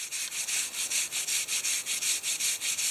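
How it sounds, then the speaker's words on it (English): Dollar Tree grill scrubber rasping over tree bark to roughen it and strip loose bark before painting a trail blaze, a steady back-and-forth scraping of about a dozen even strokes, close and continuous with no talk. "sometimes you use a paint scraper. I find that these inexpensive Dollar Tree grill scrubbers work really well"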